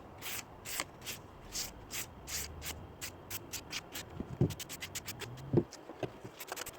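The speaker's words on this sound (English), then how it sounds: "we gently use another sandpaper to remove any excess dust" Sandpaper is rubbed over a dried acrylic-painted canvas in steady back-and-forth strokes, a soft, regular scratching that stays faint and close with no voices.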